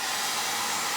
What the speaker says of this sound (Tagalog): Meron siyang hair dryer, guys.